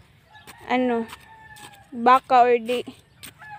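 Chickens at a rural Filipino home give a few short, close clucking calls in two bursts, loud and mingled with a person speaking nearby.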